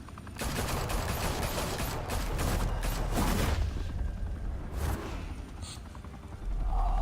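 Police open fire in Batman: The Telltale Series: a loud, dense fusillade of rapid gunshots and bursts rattles on for several seconds, with mechanical clatter in between.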